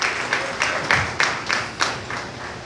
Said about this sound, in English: Come and give the Lord a good clap.